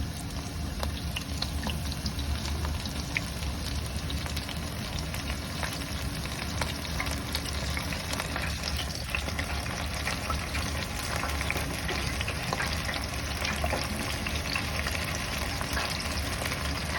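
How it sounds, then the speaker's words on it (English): Battered pieces deep frying in hot oil for a dhansak curry meal, giving a steady, dense sizzle and crackle that runs unbroken and fairly close throughout, with no talk over it. "So they've been frying for about 3 or 4 minutes."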